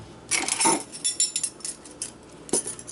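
A metal teaspoon measures out coarse ground salt, giving a few close, light clinks and scrapes against a container in short bursts, with quiet gaps between them.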